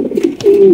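A Danish pigeon gives a short, close, loud coo with a rising, sustained note near the end.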